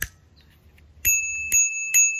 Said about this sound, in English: So the bell just works like that.